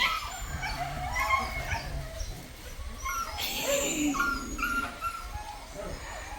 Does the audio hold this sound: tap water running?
no